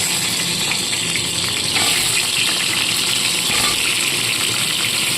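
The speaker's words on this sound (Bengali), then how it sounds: "এবার পটলগুলোকে এর মধ্যে ছেড়ে ভেজে নেব" Pointed gourd pieces fry in hot oil left from frying potatoes, a loud, dense, unbroken sizzle and crackle that stays close and steady throughout.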